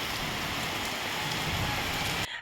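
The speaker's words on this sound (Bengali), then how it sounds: "বৃষ্টি তো একদম জুড়ে নামলো" Heavy rain pours down on a street in Gariahat, Kolkata: a dense, loud, continuous roar of drops hitting surfaces with no break until it cuts off abruptly at the end.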